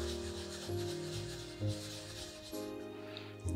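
A chocolate hot cocoa bomb shell is rubbed around in a circle on a surface, making a soft, continuous, close scraping and rubbing sound over a steady low hum.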